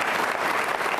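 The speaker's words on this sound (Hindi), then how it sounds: "तालियां सम्मान में बजाइए कर्नल साहब के" An audience claps in honour of the chief guest, an NCC group commander, at an Independence Day cadet quiz event; a brief, steady wash of applause.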